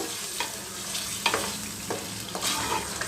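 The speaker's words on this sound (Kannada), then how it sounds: "ನೋಡಿ ಮಸಾಲೆ ಎಲ್ಲನೂ ಎಣ್ಣೆಯಲ್ಲಿ ಸ್ವಲ್ಪ ಫ್ರೈ ಆಗಬೇಕು" Masala fries in oil for an aloo kadai, with a bright steady sizzle and a few soft scraping stirs spaced about half a second apart.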